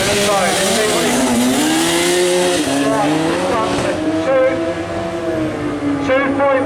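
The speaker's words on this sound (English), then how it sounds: "First motorcycle, 9-second run." A motorcycle tears through a sprint run at the Brighton Speed Trials, its engine note rising through the gears as it passes close by, with a commentator talking over it.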